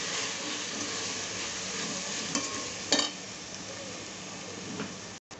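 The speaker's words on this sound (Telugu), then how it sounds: "ఇప్పుడు అన్నీ కలుపుకుందాం." Mushroom biryani with biryani masala and garam masala being stirred in a pot, a steady sizzle with a few sharper scrapes and clinks of the spoon against the pot, continuous and close.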